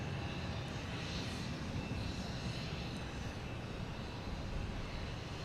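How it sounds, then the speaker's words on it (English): A JetBlue airliner arriving from Nantucket at Boston Logan Airport, a steady, fairly distant roar of jet engines that holds level throughout with no voices. "JetBlue coming in from Nantucket"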